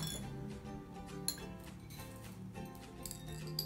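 Plates clink and clatter lightly as children set them down, scattered small knocks and rings spread unevenly over a few seconds, fairly close, with no talk.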